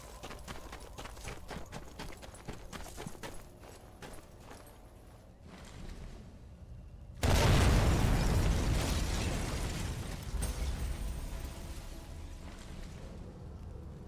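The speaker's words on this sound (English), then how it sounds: "We'll leave one body here that we haven't checked while we blow up this AA gun." Clattering, rapid mechanical taps lead into a sudden loud explosion as an AA gun is blown up in Sniper Elite 4, followed by a long rumbling, debris-filled decay that slowly fades.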